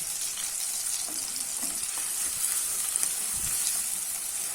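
Onions and dried chillies fry in oil with a steady close sizzle and hiss, plus a few faint stirring scrapes.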